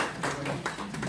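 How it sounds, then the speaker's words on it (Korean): A crowd applauds at a political party leadership meeting in Incheon: dense, steady clapping that swells in a few louder bursts, close and full, with no voices over it. "동의하시면 박수."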